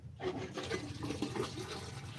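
Water rushes and gurgles as it drains out of a house's plumbing pipes through the lowest drain point in a shop bathroom, a steady turbulent flow starting abruptly and continuing quietly.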